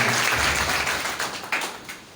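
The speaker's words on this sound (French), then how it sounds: "Encore des applaudissements" An audience in a university lecture hall claps in a burst of applause that thins out and fades, with a few last scattered claps near the end.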